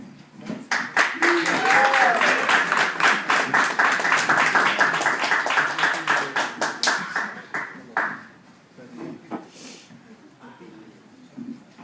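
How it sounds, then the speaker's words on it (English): An audience at a comedy club in Connecticut claps in a dense burst of applause lasting several seconds, close and lively, then thins to scattered claps while someone talks. "Thanks for the round of applause."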